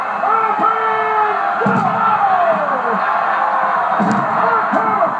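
A wrestling arena crowd cheers and roars for Psycho Sid, a loud steady mass of voices with occasional chops and slams, while commentators talk over the noise.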